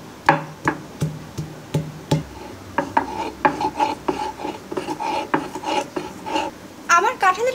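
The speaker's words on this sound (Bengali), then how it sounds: "এবার একটি পাটায় আমি কাঁঠালের বিচিগুলো বেটে নিব।" Jackfruit seeds are ground on a stone grinding slab, producing repeated close rasping, scraping strokes in an uneven rhythm, fairly loud with short knocks between them.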